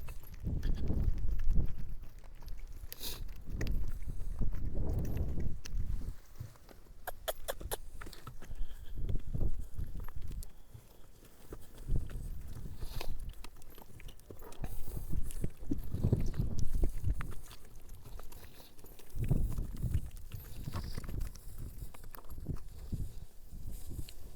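Steady clip-clop of hooves walking at an unhurried pace, fairly close, over a low rumbling background with no talking.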